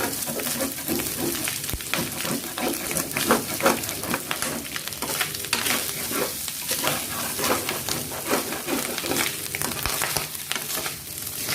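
Garlic and coriander root stir-frying in oil in a wok, a steady close sizzle with scraping stir strokes and spatula clinks throughout, no voices.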